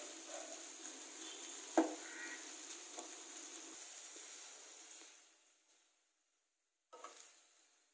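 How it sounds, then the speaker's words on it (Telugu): Sliced okra frying in oil without water in a pan, a soft steady sizzle with a few stirring clinks that fades out toward the end, then a short burst of sizzle returns. "ఈ జిగట అంతా పోయేంత వరకు దీన్ని ఇలా ఆయిల్లోనే వేగనివ్వాలి."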